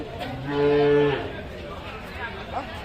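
A young bull calf at a busy cattle market gives one clear, drawn-out moo close by, then the low hum of the market continues.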